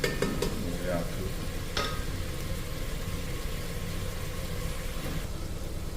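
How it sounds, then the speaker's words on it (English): Beef stew meat frying in a pan, a steady close sizzle throughout with a few faint clinks and knocks, no talking. "while I got my stew meat cooking down"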